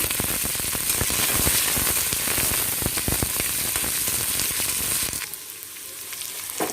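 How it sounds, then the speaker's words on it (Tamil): Mustard seeds and urad dal fry in hot oil for rava dosa tempering, a loud, close, crackling sizzle with rapid popping bursts that suddenly quiets near the end. "எண்ணெயில் கடுகு, உளுத்தம் பருப்பு சேர்த்துடலாம்."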